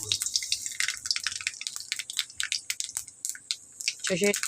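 Mustard seeds and bay leaves crackle and splutter in hot oil in a pan, a dense, steady stream of close sizzling pops throughout, with a brief clatter near the end.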